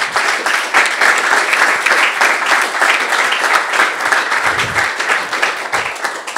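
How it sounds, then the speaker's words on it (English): A panel audience at a watchmaking talk breaks into a big round of applause, dense steady clapping from many hands filling the room for several seconds. "If we can just show a big round of applause, please."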